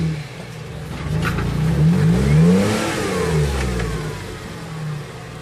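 A Jeep's engine revving while rock crawling at Mill Creek Crossing, rising and falling through a low throaty swell with no talk over it.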